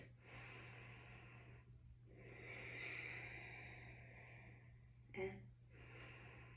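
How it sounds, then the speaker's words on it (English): Slow, deep breaths during a yoga back-opening session with a seated spinal twist, long airy inhales and exhales close to the microphone, a short sharp breath near the end, over a steady low hum. "2 more breaths"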